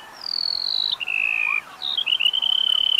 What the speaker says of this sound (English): This is the song of Angola lark